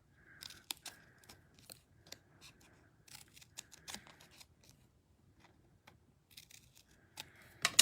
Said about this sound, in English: I take my scissors and I snip them down just a little bit further.